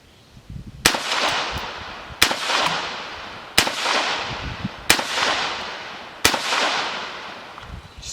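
Five sharp gunshots from a Tippmann M4-22 .22 Magnum AR-15 rifle, fired outdoors at a steady pace about a second and a half apart, each a loud close crack followed by a fading echo.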